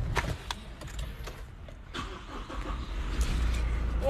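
Car interior while driving, a steady low road and engine rumble with occasional soft knocks and rattles, fairly close and continuous throughout.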